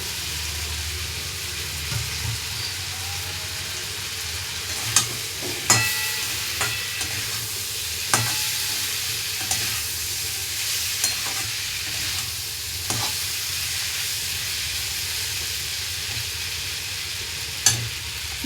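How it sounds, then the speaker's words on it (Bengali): Potatoes frying in a pan give a steady close sizzle, with a spatula stirring and scraping and a scattering of sharp clinks against the metal over a long stretch. "নাড়াচাড়া করে নেব নিয়ে আলুগুলো দিয়ে দেবো"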